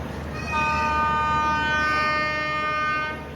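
Diva Sawantwadi Express at Diva station sounding its horn, a sustained harmonic blast of about three seconds over a low rumble of station noise.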